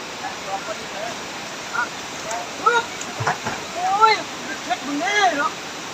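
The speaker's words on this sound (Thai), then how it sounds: "เป็นน้ำตกใต้ที่สวยงามแท้" Rushing water from a waterfall in Laos pours steadily at close range as someone speaks over the constant roar.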